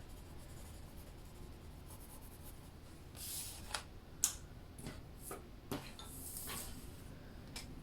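A colored pencil lightly coloring on paper with a grayed lavender shade, soft scratchy strokes coming in short bursts and a few sharper ticks, quiet and close with no talk.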